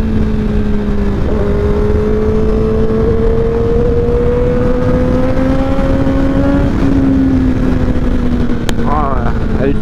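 A crash-damaged Kawasaki ZX10R sportbike roars on the road under hard throttle, its loud, continuous high-revving engine drone climbing slowly in pitch and dipping slightly near the end.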